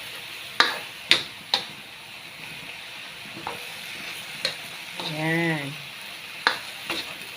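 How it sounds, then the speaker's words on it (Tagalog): Cabbage and pork sautéing in a pan give a steady sizzle, broken by sharp spatula clacks against the metal, with one short spoken word near the end. "Ginisang repolyo."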